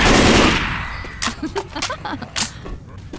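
Rapid automatic gunfire in the zombie shooter Left 4 Dead crackles in dense bursts, loud and close, with repeated sharp shots over a noisy game background and brief shouted speech.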